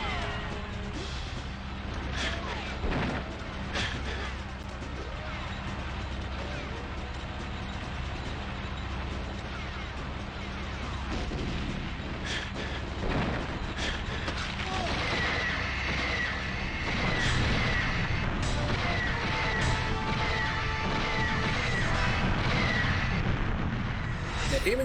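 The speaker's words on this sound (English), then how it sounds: "Aiming and shooting with the tank is kind of hard." Tank cannon fire in GoldenEye 007, heavy booming blasts and rumbling impacts mixed into dense, continuous game noise with music, loud and sustained throughout with a brief voice underneath.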